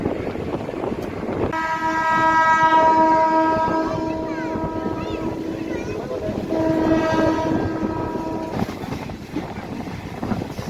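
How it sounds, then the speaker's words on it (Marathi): A DEMU train departing a station rumbles along with a long two-tone horn blaring, then sounding again, over steady rolling wheel and engine noise. "2 मिनिटाच्या स्टॉपनंतर औसा रोडवरून आपली गाडी निघालेली आहे"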